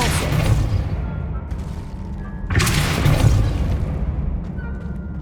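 A Depulso spell cast in the video game Hogwarts Legacy lands as a loud booming burst, followed by a second heavy blast with a crashing, rumbling tail.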